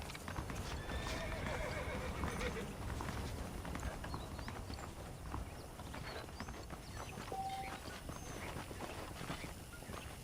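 A horse in the video game Red Dead Redemption whinnies and its hooves clip-clop on the ground, steady hoofbeats running throughout with a neigh over them, mixed with other game sounds.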